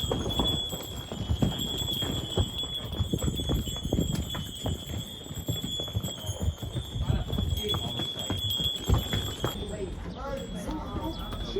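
Donkey hooves clop steadily up a hill in Santorini, Greece, a continuous busy patter of hoofbeats mixed with outdoor bustle and a high steady whine throughout.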